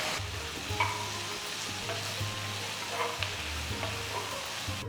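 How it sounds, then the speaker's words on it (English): Chopped tomatoes sauté with onions, chilli, ginger and garlic for a chickpea kofta curry, a steady close sizzle with occasional light stirring scrapes and no talking. "Next, add 4 medium-sized tomatoes chopped."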